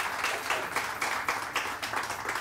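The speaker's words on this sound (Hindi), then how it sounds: "फजीला काजी के लिए बहुत सारी तालियां" Studio audience clapping on a Pakistani morning TV show, a steady wash of many hands rising and falling in loose waves, fairly close and filling the room with no voices over it.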